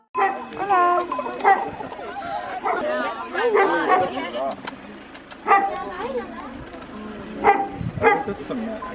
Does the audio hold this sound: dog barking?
yes